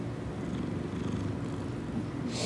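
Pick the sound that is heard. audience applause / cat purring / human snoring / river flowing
cat purring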